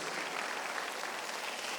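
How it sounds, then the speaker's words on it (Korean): A Korean church congregation claps during a Sunday worship service, producing a steady, even wash of applause heard at moderate distance and fairly faint. "박수를 치며 하나님께 영광을 내세요"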